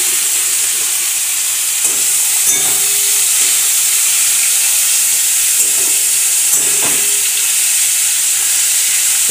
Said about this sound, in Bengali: এটাকে লাল করে ভেজে নেব।